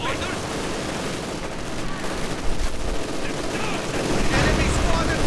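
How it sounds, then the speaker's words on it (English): Company of Heroes 2 battle with dense, continuous gunfire and explosions from a 1v1 match, loud and chaotic throughout with rattling bursts layered over a rumbling low end. "Conscripts continue to take intense fire."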